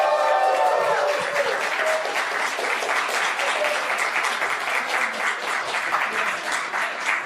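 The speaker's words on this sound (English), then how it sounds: "Let's hear it for Katana, everybody." Audience applause for award winners at a Building Virtual Worlds event, sustained dense clapping from a crowd that starts just after a voice and continues steadily throughout.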